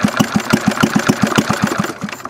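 A homemade hit-and-miss Briggs engine idles close by with loud, evenly spaced thumping firing pulses, about a dozen in quick succession, and the beats weaken and thin out toward the end as it is about to die.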